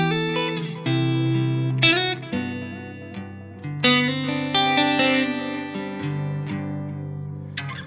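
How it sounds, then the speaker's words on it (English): An electric guitar plays a slow sequence of sustained notes through a dark, muted delay effect, with each note trailing soft repeats that blend into an ambient wash and no talking. "So now I have a much darker delay tone."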